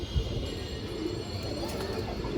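A large male Muslodom pigeon coos in low, rounded notes close by, the soft murmuring steady against a faint background hum.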